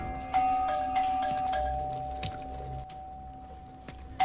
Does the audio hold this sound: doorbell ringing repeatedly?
yes